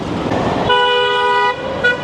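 A car horn blares a sustained honk, then a shorter toot, over the rumble of street traffic and engines nearby in Dhaka, Bangladesh.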